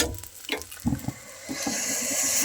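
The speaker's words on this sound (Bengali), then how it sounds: "কিছুটা পরিমাণ জল দিয়ে দিচ্ছি, গেলেই হয়ে যাবে আমাদের নুডলস" Water is poured into a pan of noodles with vegetables, giving a splashing pour that settles into a steady hiss and sizzle, close and moderately loud.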